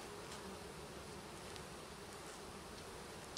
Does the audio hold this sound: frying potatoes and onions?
no